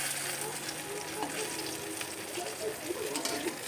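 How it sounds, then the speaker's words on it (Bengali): Brinjal slices fry in hot oil in a pan, giving a steady crackling sizzle with occasional stirring and turning sounds, close and moderately loud, no talking. "লাল লাল ভাজা হয়ে গেছে আমার বেগুন"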